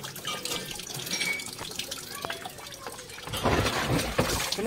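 Water is poured out in a gurgling, splashing stream that starts fairly soft and grows louder and fuller near the end.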